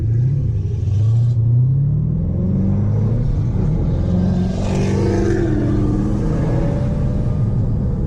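A twin-turbo Dodge Hellcat accelerates hard in a race, its engine rumbling loud and close, climbing in pitch through several gears with whooshing turbo noise.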